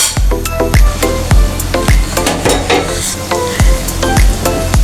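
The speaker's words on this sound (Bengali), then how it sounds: "এভাবে আস্তে আস্তে দিয়ে দিয়ে ভাজতে হবে।" Noodle pakoras deep frying in hot oil, a steady close bubbling sizzle broken by repeated sharp clinks and knocks of a utensil stirring and turning the pieces in the pan.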